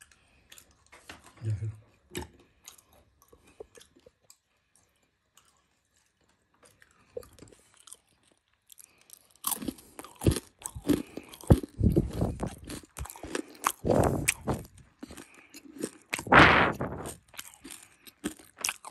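Crunchy Pakistani Peshawari milk peanuts being chewed up close, with a quiet stretch first and then a dense run of loud, crackling crunches through the second half.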